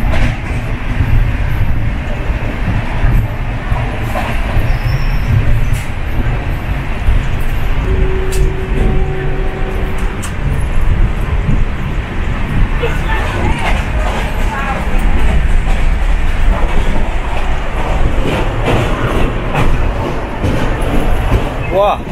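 The 22835 Shalimar Puri Superfast Express runs out of Kharagpur with a constant loud rumble and rolling wheel noise heard from inside the coach, and faint voices mix into the din.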